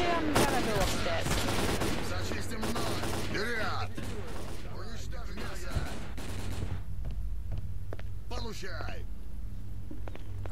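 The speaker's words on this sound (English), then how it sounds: "Who are we shooting here?" Gunshots crackle in rapid, overlapping bursts during a firefight in the video game Lost Alpha, loud and close at first before thinning to scattered shots.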